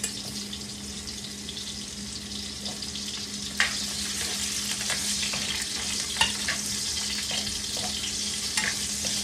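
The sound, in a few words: frying carrots for chicken pochero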